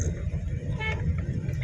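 Busy street traffic near a public market in Palawan, with car horns tooting over a steady low rumble of engines; one honk stands out clearly in the middle.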